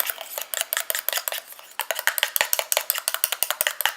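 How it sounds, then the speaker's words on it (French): A utensil stirs homemade red fruit night cream with vitamin E in a small container, giving a steady run of quick, close scraping clicks with no voice. "Et je mélange pour la dernière fois."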